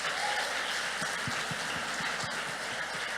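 Church congregation applauding for the Lord during a sermon, a steady wash of clapping filling the room at moderate level, continuous throughout with no voices on top.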